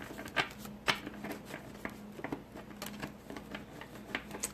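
A deck of cards being shuffled by hand up close, with repeated quick bursts of riffling and soft papery slaps in an uneven rhythm.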